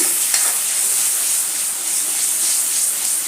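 Tomato puree fries and sizzles in hot oil in a pan while being stirred, a steady close hiss with faint scraping, no voices.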